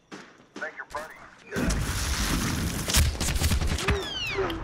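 Sniper gunfire in the shooter game Medal of Honor Warfighter: after brief speech, a loud burst of shots and booming battle noise erupts and keeps rumbling, with sharp cracks standing out and a voice talking through part of it.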